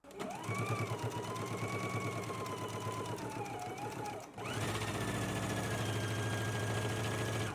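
A sewing machine hums steadily up close while stitching a facing seam on a dress, pausing briefly midway before running again at an even speed.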